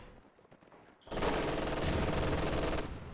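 An MG42 machine gun fires a sustained burst of rapid automatic fire in a WWII strategy video game, loud and dense for about two seconds after a quieter lead-in.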